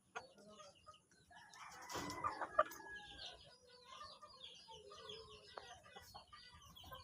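Native backyard chickens cluck faintly in the background, with a short louder burst of fowl calls partway through against a quiet outdoor setting.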